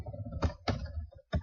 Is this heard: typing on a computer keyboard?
yes